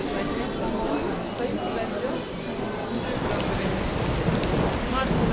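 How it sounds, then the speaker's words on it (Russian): Heavy rain pours down steadily at a shopping centre, a dense continuous hiss that holds at the same loudness throughout, with voices faintly audible beneath it. "Да, там как из ведра льет."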